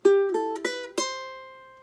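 Four plucked ukulele string notes are played one after another, the last ringing out and fading with nothing else heard.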